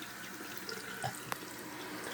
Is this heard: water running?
yes